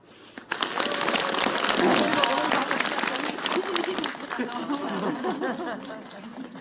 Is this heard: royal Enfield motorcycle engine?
no